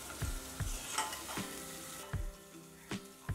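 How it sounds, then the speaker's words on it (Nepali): Chopped golden-brown onion with ginger-garlic paste fries in a pan, a soft steady sizzle broken by a rhythmic series of stirring knocks and scrapes roughly every half second, close and quiet with no talk. "यसलाई मजाले फ्राई गर्नुपर्छ"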